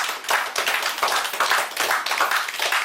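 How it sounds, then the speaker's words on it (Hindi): Loud, rapid clapping from a small group of Jharkhand participants at a Manali boot camp, a dense steady patter of hand claps sustained for about three seconds with no talk over it. "एक जोरदार ताली बजाओ सिर्फ झारखंड वाले"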